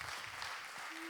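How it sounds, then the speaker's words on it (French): Audience applause for a presenter at a MoodleMoot conference session on online modules for technical courses, steady dense clapping throughout, fairly faint and distant in the room. "Je crois qu'on peut applaudir Laurence encore une fois"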